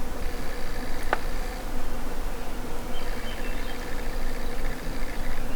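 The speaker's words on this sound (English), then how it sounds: "Every night there's this hum of mosquitoes that you can hear just everywhere." A steady insect drone of mosquitoes hums close by at a remote northern wilderness campsite, rising and fading, with one brief sharp click near the start.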